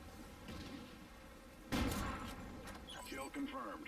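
Gunfire in a first-person shooter match: a sudden loud burst of shots near the middle, followed by scattered further reports, with a player's voice talking over it.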